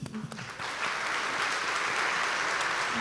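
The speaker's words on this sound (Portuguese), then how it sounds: "pedir uma salva de palmas para o Danilo Candombi" A voice is cut off as applause from an audience starts, quickly rising into steady, dense clapping that carries on to the end.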